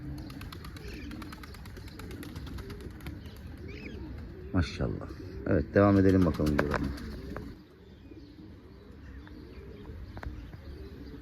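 A pigeon-like bird sitting on its chick gives soft, low cooing calls with a few chirps over a quiet background, while someone talks briefly over the middle of the sound.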